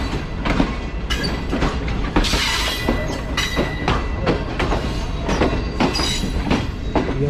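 Green Line Express passenger train running on rails near Kotri, heard from on board with a steady loud rumble and repeated rhythmic clickety-clack of wheels over rail joints throughout.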